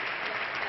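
An audience claps for an award winner at a United Nations event, a brief, even wash of applause from many hands, no voices.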